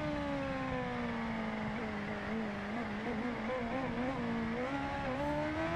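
A Kawasaki H2R motorcycle engine drones steadily in the racing video game Ride 2, its pitch wavering gently with light throttle modulation, continuous and fairly loud.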